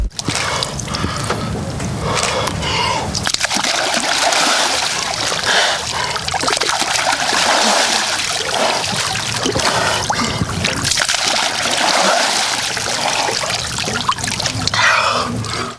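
Splashing and trickling water from a person plunging into an icy river through an ice hole at an Epiphany outdoor bathing event, steady and loud across the whole stretch with no talk.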